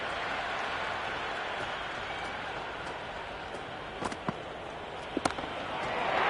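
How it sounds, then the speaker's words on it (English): Cricket crowd in the Cricket 26 video game keeps up a steady cheering wash, with a few sharp knocks and thumps partway through and the roar swelling at the end. "The crowd is electric right now."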